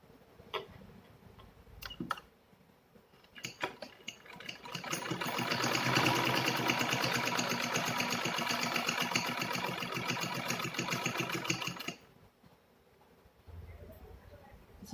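An electric sewing machine stitches a fabric pocket organizer in a steady rapid run of about six seconds, preceded and followed by quiet ticks and clicks as the cloth is positioned, with no talking.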